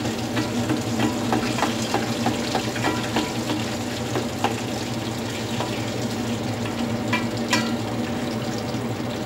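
Stuffed crab (rellenong alimasag) frying in oil, a loud, steady sizzle with crackling pops and occasional clinks throughout.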